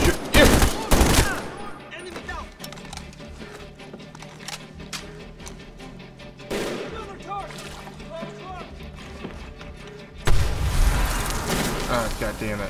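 Medal of Honor Warfighter: loud bursts of gunfire open the passage, with scattered shots and combat noise in between. A heavier volley comes near the end, and voices talk over the action.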